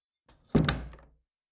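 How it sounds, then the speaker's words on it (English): A door shuts with a single solid thunk at close range, followed by a brief fading resonance, alone with no talk. "Close the door."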